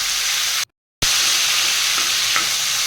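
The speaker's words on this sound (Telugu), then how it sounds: "ఒక టూ స్పూన్స్ అల్లం వెల్లుల్లిపాయ పేస్ట్ వేసుకుని నూనెలో బాగా వేగనివ్వాలి" Two spoons of ginger garlic paste frying in oil, a loud, steady close-up sizzle interrupted by a short silent gap, then resuming with faint stirring taps.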